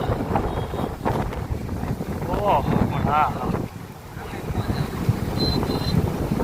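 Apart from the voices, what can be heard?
sea waves at the Dwarka shore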